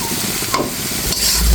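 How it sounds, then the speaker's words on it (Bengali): Snakehead fish head sautés in spice paste in a pan, a close, loud sizzle broken by a few scraping stirs, with no voices. "এখন আমি এর ভিতরে মাথাটা দিয়ে একটু কষিয়ে নেব"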